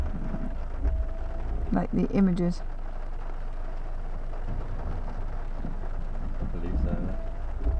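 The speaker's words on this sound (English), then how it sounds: "Shame it's raining" Steady rain falls during a summer thunderstorm in Salisbury, Wiltshire, a constant hiss that runs through the whole stretch while people talk over it in the foreground.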